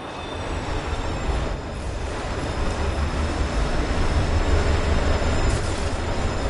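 A train in the video game Destiny 2 thunders past very close, a dense continuous roar with a faint metallic rattle that holds loud throughout.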